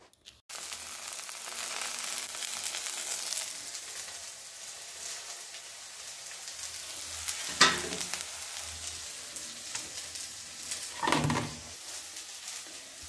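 Lentils are tempered in a hot pan, giving a steady close sizzle and frying hiss, broken by a couple of sharp bursts as ingredients hit the oil and by stirring.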